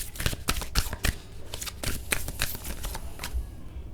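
Tarot cards being shuffled close up, a rapid series of crisp riffling bursts and slaps repeating irregularly over a few seconds with no speech.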